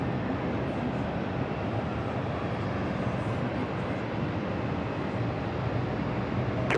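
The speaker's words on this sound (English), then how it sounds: "Finnair coming in from Helsinki, A330." A Finnair Airbus A330 arriving from Helsinki at JFK makes a steady broadband roar, loud and unbroken throughout, with no voices over it.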